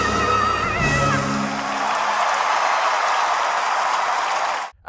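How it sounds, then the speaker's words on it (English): A large theatre audience at the Tony Awards gives a loud, sustained ovation after a stage performance from Gypsy. Dense applause and cheering fill the clip under fading music, then cut off abruptly at the end. "After an uproarious ovation, Audra stayed in character as she hobbled off stage."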